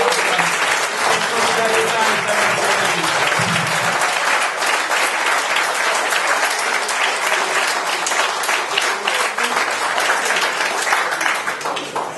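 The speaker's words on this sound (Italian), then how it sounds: "La accogliamo con un applauso" An audience at a political party gathering applauds continuously, a loud, dense wash of clapping that persists throughout, with faint voices briefly underneath early on.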